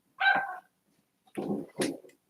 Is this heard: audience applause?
no